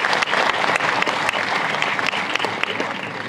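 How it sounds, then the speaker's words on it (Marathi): A large audience at a memorial concert claps loudly and steadily, dense applause with sharp individual claps standing out, continuing without pause and unbroken by speech. "आपण जोरदार टाळ्या वाजवून आभार मानूया"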